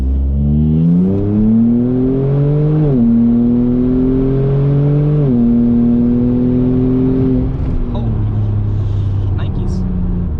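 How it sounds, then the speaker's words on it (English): A Kia Stinger twin-turbo with open downpipes accelerates hard nearby, its loud engine note climbing in stepped pulls between gear changes before settling to a lower drone. "The open downpipes are a bit much for me, just cruising around, but at wide open throttle, it is something else."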